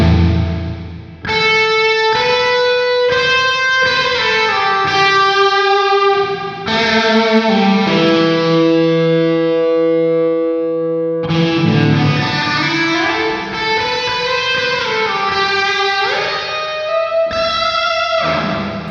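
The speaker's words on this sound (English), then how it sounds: "Yeah, there's the reverb." Electric guitar played through a Two Notes Torpedo Live with cathedral reverb, distorted chords and sustained notes ringing out into a long, washy tail, loud and without talk.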